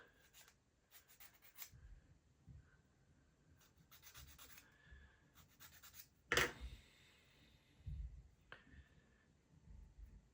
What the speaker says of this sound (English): we need to wax and sand part number 50 because it doesn't have little dips